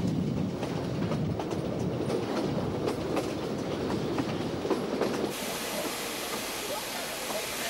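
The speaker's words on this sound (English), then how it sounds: "The train heads on into Zambia, past derelict locomotives dumped near to the border town of Livingstone." A steam train runs on the railway heading into Zambia near Livingstone, a steady loud rumble and hiss with faint rhythmic clatter of wheels, continuous throughout.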